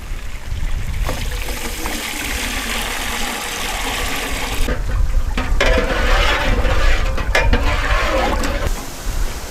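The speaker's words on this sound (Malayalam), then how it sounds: "അപ്പോൾ അടുത്ത് നമുക്കിതിൽ വെള്ളം ഒഴിച്ചു കൊടുക്കാം." Water is poured steadily into a cooking pot for Hyderabadi dum biryani, a loud continuous splashing and gurgling stream that swells in intensity toward the end.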